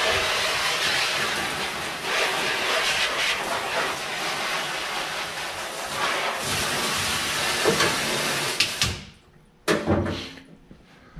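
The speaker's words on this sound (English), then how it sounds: "I can take my sprayer and I can clean my apron." A sprayer blasts water over an apron after fleshing an otter pelt, a loud continuous hissing spray that cuts off near the end with a few short final bursts.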